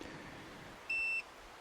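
A single electronic beep from an EcoFlow Smart Generator while a reset button is held, steady and high-pitched, lasting about a third of a second over a quiet background hiss.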